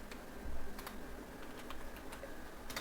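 Typing on a computer keyboard while coding in VS Code, a handful of soft, scattered key clicks over faint room hiss with no talking.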